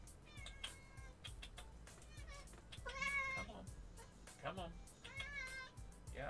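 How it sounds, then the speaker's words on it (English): A wet cat meows several times in short, rising calls, close by and fairly faint, while a person talks softly to it. "And I hear meowing."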